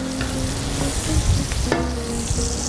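Onions sizzling and frying in a pot as part of a one-pot chicken chasseur, a steady loud crackle with occasional stirring scrapes close by.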